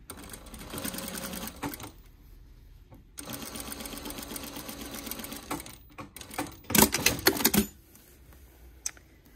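A sewing machine runs a straight line of stitching in bursts, its rapid needle clatter starting and stopping several times with brief pauses between runs, close and fairly loud.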